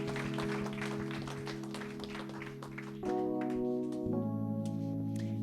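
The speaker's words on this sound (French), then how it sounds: "Est-ce qu'on peut encore applaudir les nouveaux baptisés?" A church congregation claps for newly baptized members at a Sunday celebration, a dense patter of applause over sustained keyboard chords that shift pitch partway through.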